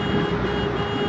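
A loud, steady vehicle horn blares continuously for about a second, close by with engine rumble underneath.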